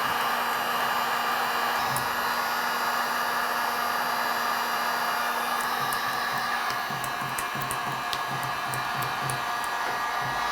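A heat gun warms the adhesive behind the tailgate handle of a 2005-2021 Nissan Frontier, blowing with a constant loud whirring rush and a few faint clicks.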